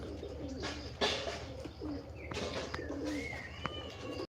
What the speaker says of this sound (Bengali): এই যে একটা কবুতর উঠতেছে